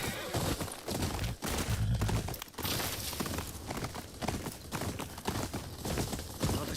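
Horse hooves clip-clop repeatedly in the Ghost of Yotei video game, mixed with a short whinny. The sound is busy and fairly loud and continuous, with no talk.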